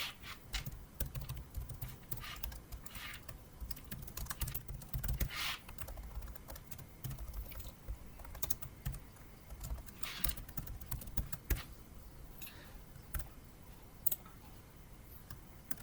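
Code being typed on a computer keyboard while building a C# ASP.NET Web Forms login page, with a steady stream of close, quiet key clicks in irregular bursts and no talking.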